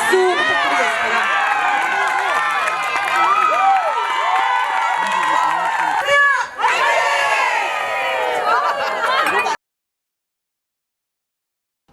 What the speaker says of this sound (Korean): 팀에게 큰 박수 부탁드리겠습니다